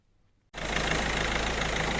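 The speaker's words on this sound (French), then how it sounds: "une fois avoir démarré le véhicule, la cartouche d'huile est remplie" Peugeot 308 1.6 HDi diesel engine starts abruptly after quiet and settles into a steady, loud, rattly idle.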